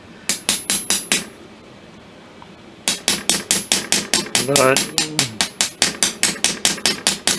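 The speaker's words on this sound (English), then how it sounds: "through some creative hammering I literally just cold forged that material where I wanted it." Steady, evenly spaced hammer blows cold-forging a metal pin for the ram rod of a Kibler Colonial flintlock kit, a sharp ringing strike repeated in quick runs with a short pause, close and clear, with a brief spoken word in the middle.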